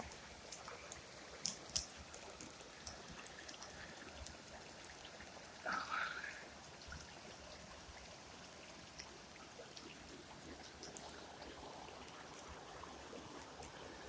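A waterfall on a woodland creek far back in the woods gives a steady, broad rushing hiss, faint and continuous throughout, with a couple of brief small knocks and one short bird-like chirp partway through.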